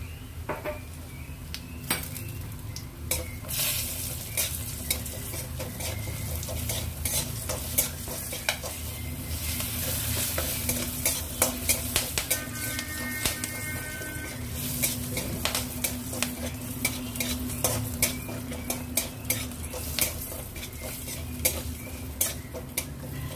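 Ground biuli (urad) dal frying and being stirred in a pan for a lauki dish, steady sizzle with frequent scraping and clinking of a spatula against the metal, close and continuous, no talk.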